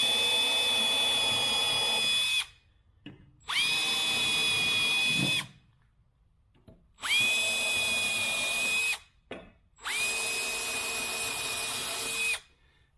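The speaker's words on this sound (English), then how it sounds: "I got a drill bit. I don't want to split it. Let's go put a drill bit." Power drill boring holes in trailer deck wood, four long high-pitched whining runs of several seconds each, separated by brief pauses, close and loud.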